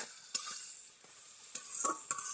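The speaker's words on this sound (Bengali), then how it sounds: "মাছের তেল ভাজা করছি।" Fish frying in hot oil gives a steady, quiet hiss, broken by a few sharp pops and spits at irregular moments.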